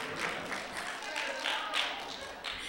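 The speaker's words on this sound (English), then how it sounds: "You're not going to clap for yourselves?" An audience claps for itself in a steady burst of applause, moderately loud and sustained with slight swells, scattered voices mixed faintly underneath.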